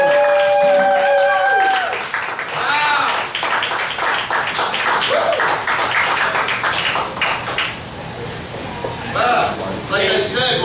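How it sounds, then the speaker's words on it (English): Audience applause for a poet at a spoken-word event, a dense wash of clapping with whoops and speech-like voices mixed in, loud and sustained throughout. "Give her a round of applause"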